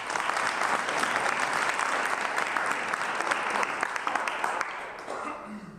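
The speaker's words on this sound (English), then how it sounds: "Clap it up for her" Audience applause at a speaking event in a W Hotel in Union Square, New York City: dense, steady clapping from a full room, loud and sustained, easing slightly near the end.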